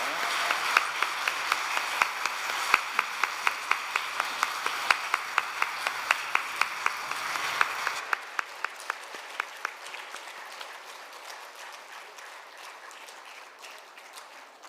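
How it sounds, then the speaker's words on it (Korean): A church congregation applauds in praise to God at an autumn revival meeting, steady rhythmic clapping from many hands with some louder accented beats, full for about eight seconds, then thinning out and fading toward the end. "하나님께 영광의 박수 올려드리겠습니다."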